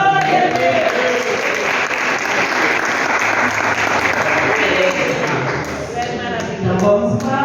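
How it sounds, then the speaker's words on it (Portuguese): A church congregation claps hands together in sustained, dense applause during a morning service, loud and continuous throughout, with voices faintly audible beneath the clapping. "E as palmas exaltam."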